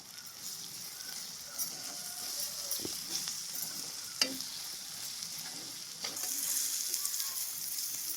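Onions fry gently in oil with chili powder for a curry, a soft continuous sizzle with occasional stirring taps and a few sharper clinks, fairly quiet and close, with no talking.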